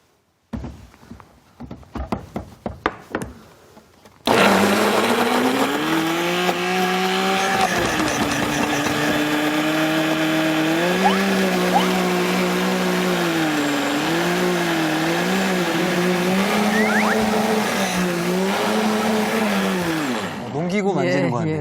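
Blender grinding pear, radish, onion and apple, starting after a few handling knocks with a loud whirring motor whose pitch dips and rises as the chunks break down, running steadily for about sixteen seconds before stopping.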